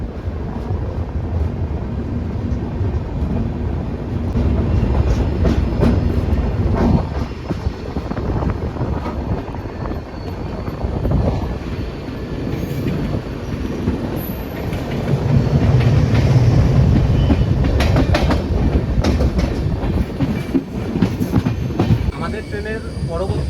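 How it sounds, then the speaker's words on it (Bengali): The Padatik Express train rolls steadily along the rails, its rumbling wheels and rhythmic clatter loud and close, with occasional squeals and bumps throughout. "আমাদের ট্রেনের দু মিনিট স্টপেজ দেওয়ার পর ডিপার্চার হয়ে গেল"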